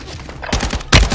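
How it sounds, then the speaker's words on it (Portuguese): Call of Duty gunfire crackles in a rapid, loud burst of shots, with one heavy report closing the fusillade at close range. "Tô levando um tiro aqui"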